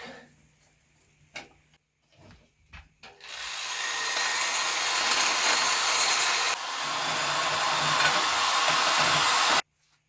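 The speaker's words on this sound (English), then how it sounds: "And I'm gonna deburr it." A power tool grinds continuously to deburr the cut end of a metal bar for a truck bed rack, loud and steady for about six seconds after a few short taps and a brief start.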